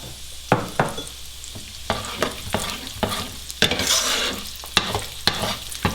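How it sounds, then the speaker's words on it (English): Onions gently browning in a little oil in a pan for meatballs in tomato sauce, with a soft sizzle under repeated scraping stirs that land in an irregular rhythm, close by and without speech. "And then in goes some more onions. And we'll just gently brown those off."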